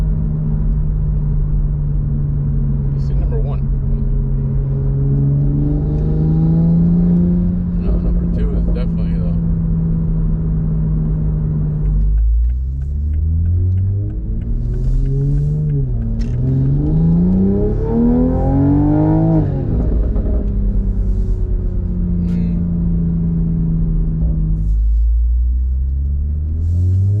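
A 2020 Toyota GR Supra on a tuning pull, its engine droning at a steady pitch, then revving hard in rising sweeps that climb and fall back, loud and close with a deep rumble, and voices speaking briefly.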